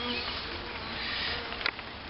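Carniolan honey bees buzz at an open hive, a steady, close swarm drone with a brief louder burst near the end.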